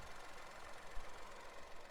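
A 2021 Proton X50 1.5-litre turbocharged, direct-injected inline-three petrol engine idling produces a faint, steady low hum with a slight rhythmic pulse and no talking.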